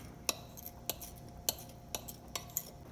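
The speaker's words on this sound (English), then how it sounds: "Then try to smash the saffron with your spoon." Light metallic clinks of a spoon crushing saffron in a small dish, several sharp taps spaced irregularly, close and fairly quiet with no talking.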